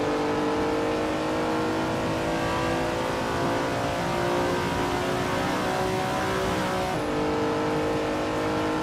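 Race cars in a racing video game accelerate at full throttle, a dense layered engine roar holding loud and steady throughout with rising whine and a brief shift near the end.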